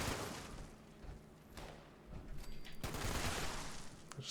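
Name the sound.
exploding .50 cal machine gun firing, Fallout 76 video game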